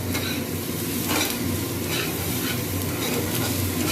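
Potatoes frying in a pan for chow mein, stirred briskly with a utensil: a dense, loud, continuous sizzle with scraping strokes, close up and uninterrupted.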